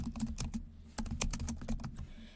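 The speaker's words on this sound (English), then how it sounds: "Right here in this first box, you're just going to type your name" Fingers tap out a name on a computer keyboard in quick, uneven bursts of clicky keystrokes, close and clear, over a faint steady hum.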